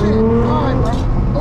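A Nissan GT-R launches hard under launch control, its engine note climbing loud and close over about a second and a half as voices talk inside the car.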